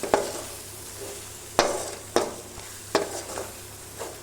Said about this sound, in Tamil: இந்த மசாலாலாம் இந்த எண்ணெயிலேயே நல்லா வதக்கிக்கலாம்.